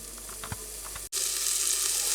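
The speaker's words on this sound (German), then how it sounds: "Wir erhitzen jetzt etwas Öl und geben dann den Frühlingszwiebel oder die Zwiebeln in den Topf hinzu." Spring onions drop into hot oil in a pot over a campfire for pea soup, light clicks and taps before a sudden burst of loud, bright, continuous sizzling close by.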